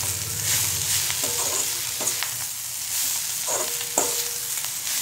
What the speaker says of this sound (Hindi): अब ये मेथी मैंने इसमें डाली है, अच्छे तरीके से इसको मिला लेंगे